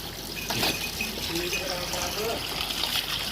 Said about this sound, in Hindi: अब ये पानी ऐड होगा इसमें मज़ीद